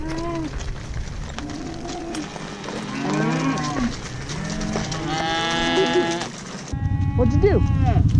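Cattle being gathered on a farm with an ATV bellow with several loud, drawn-out moos, some overlapping. People call out to the herd between the calls.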